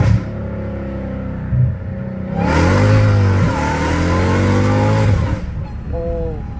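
Idling car engine with a high whine that swells into a loud, sustained revving stretch, then drops back to a steady idle, while someone talks over it on an empty road.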